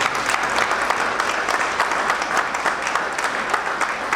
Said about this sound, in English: giving our students a round of applause for their work